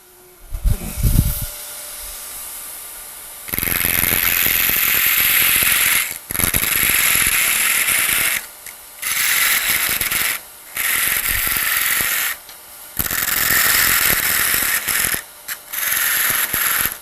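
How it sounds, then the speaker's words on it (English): A parting tool cuts into wood spinning on a lathe for a snowman turning, giving loud hissing, scraping bursts in repeated passes of a few seconds each, separated by short quiet gaps, after a few light knocks at the start. "using a parting tool and just coming in here and cutting it down."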